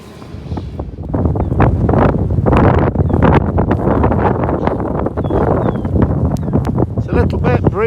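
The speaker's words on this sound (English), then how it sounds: "little bit breezy. You might pick that up on this little video." Gusty wind buffets the microphone throughout a breezy coastal ride on a Brompton folding bike along the Devon coast-to-coast route near Yelland, a steady loud rumble with rustling bursts.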